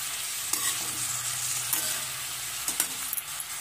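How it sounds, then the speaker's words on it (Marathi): Potato and fenugreek leaves fry in a pan with a steady loud sizzle, while a spoon stirs and scrapes through them in a few distinct strokes. No talk is heard. "आणि एकदा असं वर खाली त्याला हलवून घेऊ व्यवस्थित।"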